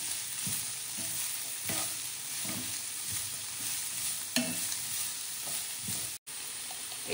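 Vegetables stir-frying in a hot pan for vegetable Hakka noodles, a loud continuous close sizzle with rhythmic stirring scrapes throughout and a brief dropout near the end, with no voices.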